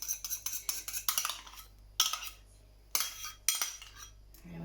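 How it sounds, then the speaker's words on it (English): A spoon scrapes and clinks against a bowl, scooping out the last of the yogurt for air fryer flatbread, with quick irregular scrapes and a few sharper knocks, close and fairly quiet. "just get a spoon and scrape that out, make sure that I've got it all out the bowl"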